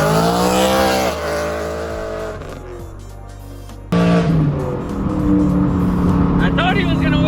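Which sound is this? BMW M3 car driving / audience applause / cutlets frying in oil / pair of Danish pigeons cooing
BMW M3 car driving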